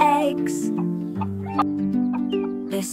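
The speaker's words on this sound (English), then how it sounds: "This chicken is a hen." A hen clucks in short bursts over a bouncy children's sing-along tune, its calls mixed in with steady music.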